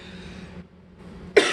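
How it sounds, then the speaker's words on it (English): A single sharp cough bursts out near the end, loud and close, after a stretch of low background murmur. "I'm sorry about this cough"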